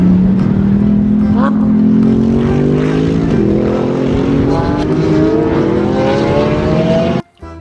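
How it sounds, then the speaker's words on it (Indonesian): Racing car engine revving up in a rising, climbing tone, loud and close, with a voice talking over it before cutting off abruptly near the end. "Mobil balap."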